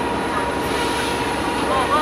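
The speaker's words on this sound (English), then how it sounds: "That's the DJI Spark, yeah, okay? DJI Spark, Spark. Look at it." A DJI Spark drone flies outdoors with a constant, loud whirring drone, a faint high whine rising near the end, and voices mixed into the steady noise.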